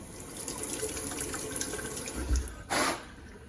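A dental impression is rinsed under a running tap, steady close water flow with a brief louder gush of splashing near the end.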